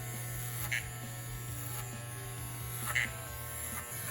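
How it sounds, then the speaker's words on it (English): Electric hair clippers run with a steady close buzz while cutting puffy hair to a number 2, with a couple of brief louder bites as they pass through. "See how when I'm using my clippers, it's not getting anything?"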